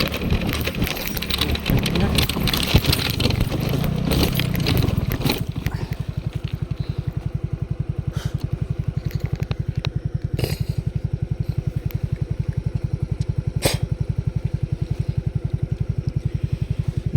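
A motorcycle engine chugs loudly at first, then settles into a steady rapid putter with brief clicks and knocks while riding.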